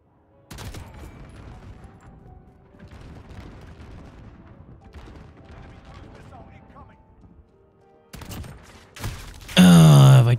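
Pistol gunfire in a Nintendo Switch shooter, a scatter of quick shots and impacts running under game noise, ending in a louder burst of effects; a voice talks over part of it.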